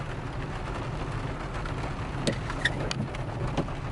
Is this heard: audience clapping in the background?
no